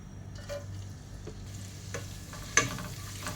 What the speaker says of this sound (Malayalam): ഇഞ്ചിയും വെളുത്തുള്ളിയും പച്ചമുളകൊക്കെ ഒന്ന് വഴറ്റി കൊടുക്കാം